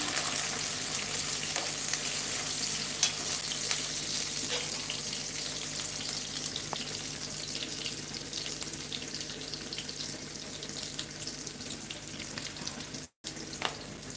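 Brinjal kuzhambu ingredients sauté in a pan for a Tamil-style eggplant curry, giving a steady, close sizzle with faint stirring scrapes, broken by one brief dropout near the end.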